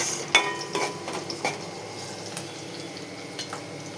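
Curry leaves and onion fry in a pan with a soft, steady sizzle. A few clinks of a utensil against the pan break through, and no one speaks.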